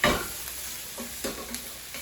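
Onion fries in a pan with a steady sizzle, and a few brief scrapes of stirring break in nearby.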